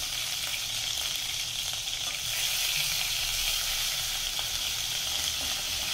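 Marinated fish shallow frying in a pan gives off a steady, dense sizzle that holds loud and close for the whole stretch without pause.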